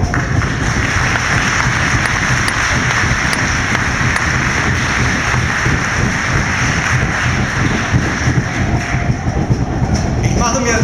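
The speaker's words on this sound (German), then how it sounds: "Applaus" A conference audience in Leipzig applauds in a steady, dense wash of clapping that holds for about ten seconds without a break.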